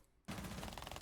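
SMG-12 fire in a Rainbow Six Siege esports match at the Six Invitational 2025: after a brief quiet, a sudden loud burst of rapid automatic shots rattles on continuously, with no talking.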